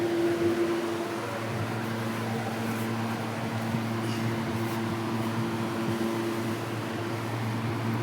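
An evaporative air cooler runs in a home room with a steady, even whir and broadband airflow hiss, plus low motor hum tones, constant and fairly close throughout, with no talking.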